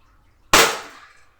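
A single loud gunshot from a Taurus 24/7 G2 pistol at a shooting range, a sharp crack with a short reverberant tail fading over about half a second, heard close with no talk.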